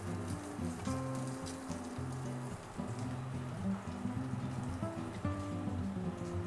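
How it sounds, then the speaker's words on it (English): Butter melting in a pan ahead of searing tuna, giving a soft, even crackling sizzle under faint background music. "While the butter's melting here, we're gonna add just a little bit of salt inside of the pan."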